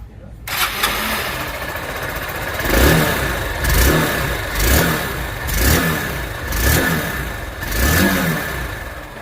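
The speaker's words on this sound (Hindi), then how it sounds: "फिलहाल साउंड सुनो गाड़ी का कैसा है।" Honda Unicorn 160 motorcycle, 2025 model, starting on the self-starter and then idling with a steady mid-pitched engine note, broken by five or six evenly spaced throttle blips that rise and fall, close and fairly loud.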